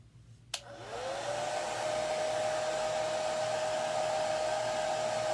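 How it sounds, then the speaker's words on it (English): Hair dryer switched on after a click, quickly rising to a steady loud whine and rush of air that holds for several seconds while drying a letter in a craft project. "Oh, and I need to blow dry that G."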